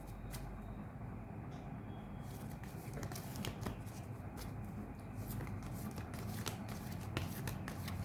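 A deck of cards is shuffled in a steady, soft riffling rhythm, close by and fairly quiet, continuing throughout over a low background hum.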